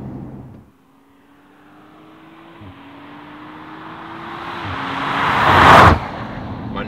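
An Audi RS 4 Avant's 2.9 litre V6 revving up through gears with a ZF eight-speed, pitch climbing, dipping at two upshifts, then swelling to a loud peak and cutting off, heard alone with no talk.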